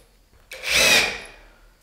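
Power drill driving a screw into 3/4-inch plywood flooring in a workshop, a single short rising whir lasting under a second, close and loud.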